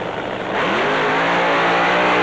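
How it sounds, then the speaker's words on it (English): A funny car Mustang does a burnout at a drag race at Santa Pod in 1996, its engine roaring loud and close, swelling to a sustained, heavy blare with squealing tyres. "Kagerad goes with the burnout"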